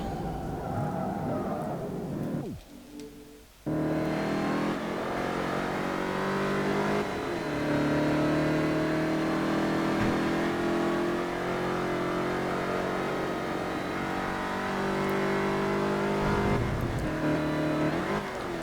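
A Chevrolet Camaro race car in Forza Motorsport 3 revs loud and steady, its engine pitch climbing and settling, with one short dip near the start before the roar resumes at full strength.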